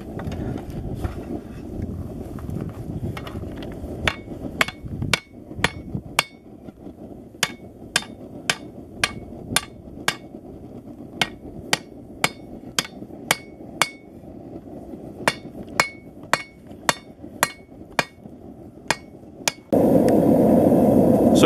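A steel spear point hand forged on a small scrap-built forge, struck by a hammer in a long, steady series of sharp ringing blows, close and clear over a low roaring background, with a burst of louder noise at the end.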